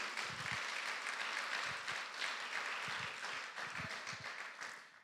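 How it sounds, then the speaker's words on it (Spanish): A church congregation at a Spanish-language service breaks into sustained applause, a steady wash of many clapping hands with some faint low vocal bursts mixed in, tapering off at the end. "Denle un aplauso fuerte."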